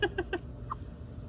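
A pet hen gives three quick clucking calls and then a single higher note, close by and fairly faint, over low background rumble in a garden.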